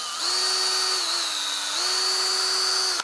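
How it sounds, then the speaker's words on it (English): A power drill spins a fly rod blank with a steady, loud, high whine that holds its pitch, dipping slightly in the middle before settling back, alone and close by. "then I actually take and I get it in the drill"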